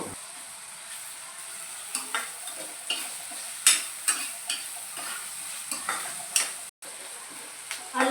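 Onions fry with ginger paste in a pan, a steady soft sizzle broken by repeated sharp scrapes and taps of a stirring utensil against the pan, close and unaccompanied by talk.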